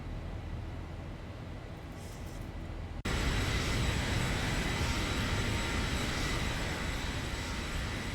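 Boeing 737-800 jet engines roar in the X-Plane 12 flight simulator during climb after takeoff, a steady, loud broadband drone that jumps abruptly louder partway through and holds constant.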